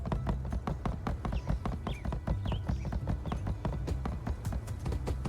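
Horse hooves clip-clop in the video game My Time at Sandrock, a steady rapid run of sharp hoof knocks over a low background hum, continuing throughout with no voices.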